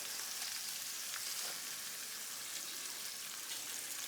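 Burgers poaching in a pan with shallot, a steady hissing sizzle with faint crackles, close and even throughout, without voices.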